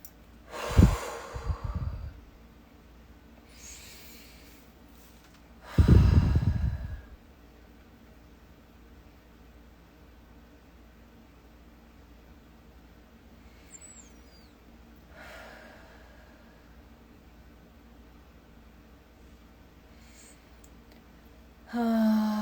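Slow, deep breaths come during a guided femininity exercise, a few long sighing exhales spaced several seconds apart with quiet pauses between them, close and alone.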